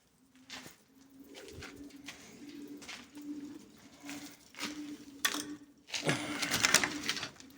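Pigeons coo softly in a steady repeating rhythm, with scattered clicks, rustling and flapping getting louder toward the end.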